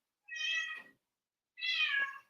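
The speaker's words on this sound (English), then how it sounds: "That's Zimmy meowing in the background" A pet cat meows twice from somewhere in the room, each call long and drawn out with a clear, slightly strained tone and a short silent gap between them.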